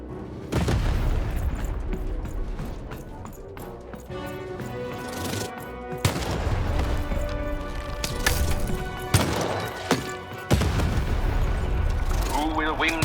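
Booming cannon shots from the video game Lost in Random fire in several loud, separated bursts over a busy backdrop of game music and effects.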